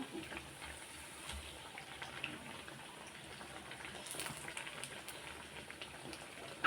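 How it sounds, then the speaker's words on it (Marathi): Sabudana vada fry in hot oil, a soft, continuous sizzle with scattered crackles and pops, fairly faint and close, with no talking. "दोन्ही बाजूने मस्त असं गोल्डन रंगावर आपण तळून घेऊ"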